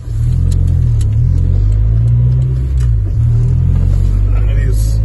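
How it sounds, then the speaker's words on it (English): At night, a Honda Civic EG car engine runs with a loud, steady low rumble that holds close and constant throughout, and a slight rise in revs partway through. "I thought it'd be nice to just show you the car in the evening, what it sounds like"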